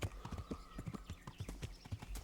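Horse hooves clip-clop in a quick, steady rhythm in the medieval video game Kingdom Come: Deliverance. The clear, close hoofbeats repeat with little else around them.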